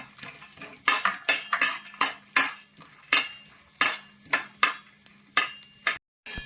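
Cashews, peanuts and almonds being stir-fried in a spoonful of ghee for a banana sweet, close rhythmic scraping and clinking of a spoon against the pan over a light sizzle, about a dozen strokes, with no talking.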